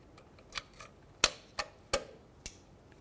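Bent needle nose pliers push a parking brake spring up and lock it in place on a 2007-2013 Acura MDX, giving about six quiet, sharp metallic clicks spaced unevenly over a few seconds.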